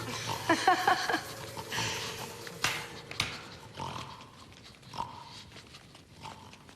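Pigs oink and grunt in a short burst of snorting squeals, loud and close, followed by scattered snuffles and grunts amid rustling commotion.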